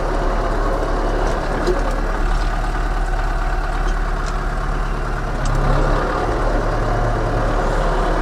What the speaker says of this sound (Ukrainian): Вже ми його запустили. Зараз прогріваємо, провіряємо всі системи